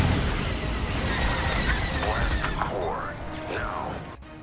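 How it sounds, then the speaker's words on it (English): A TIE fighter from Star Wars: Squadrons screams past amid loud, dense space-combat noise, with descending whooshes and blasts layered over a constant roar. "whenever I hear a TIE fighter doing that scream"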